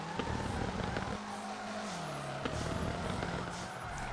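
Continuous engine drone and tire noise from a car drifting in the FR Legends racing game, with a steady rising and falling motor tone running loud throughout and no talk.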